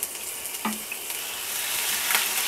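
Ginger garlic paste sautéing in about two tablespoons of hot oil in a pan, a steady bright sizzle with one brief clatter near the start, heard alone with no talk.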